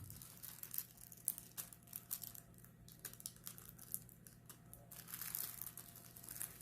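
Plastic wrapping being peeled and pulled off a diamond painting cushion: quiet, close crinkling and rustling in irregular bursts that continue throughout.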